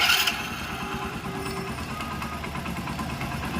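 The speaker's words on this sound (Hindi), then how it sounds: "ये एक्चुअली में टाइमिंग चेन की आवाज़ है, कि टाइमिंग चेन की आवाज़ है बाइक के अंदर।" A Hero Splendor Plus motorcycle engine running steadily at idle after starting, with a light rattling timing chain noise over the low engine hum, close up and with no voices.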